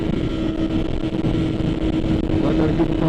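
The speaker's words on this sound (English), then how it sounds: "This bike feels real fast." A motorcycle ridden at night on a summer road gives a steady, loud engine drone with wind rush throughout, the engine note rising slightly near the end.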